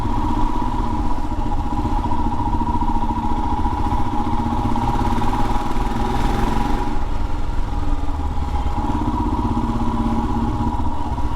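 Royal Enfield Himalayan BS4 adventure motorcycle on adventure tires running steadily, a loud, close single-cylinder engine drone with constant throb and a brief swell midway, no talking.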